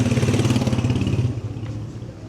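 A motorcycle engine rumbles loudly up close on an Isfahan street near an old mosque, its throbbing putter steady and then fading as it moves off.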